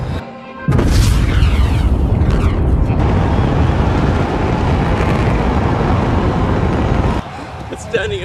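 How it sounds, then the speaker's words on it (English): A rocket landing back upright produces a deep, sustained roar like an explosion, loud and steady for several seconds after an abrupt onset, then cutting off near the end, with voices faintly mixed in. "When we started coming in, it sounded like an explosion."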